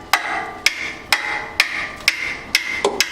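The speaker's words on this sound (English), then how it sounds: "if you'll tap your wrench, things have a lot more likelihood of coming loose" Hammer tapping a wrench on a steel braided brake line fitting, seven sharp metallic strikes at a steady rhythm about half a second apart, close and clear with ringing tails.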